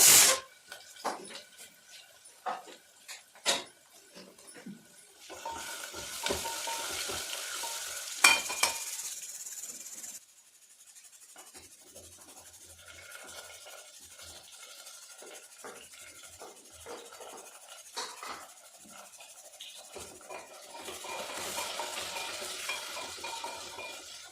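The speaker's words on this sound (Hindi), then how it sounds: "तड़का देने के लिए उसमें कम से कम 8 से 10 लाल मिर्च, 2-3 तेज़पत्ता और लहसुन की ढेर सारी कलियाँ ले ली थी हमने" A tadka of red chilies, bay leaves and garlic fries in hot oil, with bursts of loud sizzling and hiss separated by quieter spells, plus a few clinks and scrapes of stirring.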